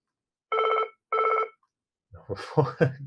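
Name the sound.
telephone ringing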